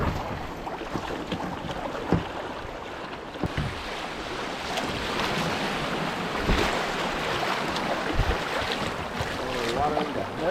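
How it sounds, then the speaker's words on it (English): Winter creek rapids rush and splash around a kayak, a steady near wash of turbulent water with wind buffeting the microphone and occasional knocks from the hull. "All right, we got a little rapids here."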